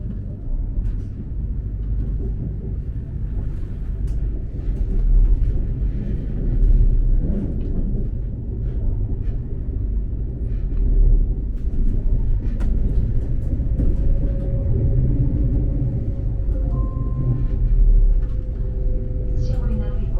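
Trenitalia train running from Venice to Milan, heard from inside the carriage as a steady, loud low rumble and hum, with a faint rising tone toward the end.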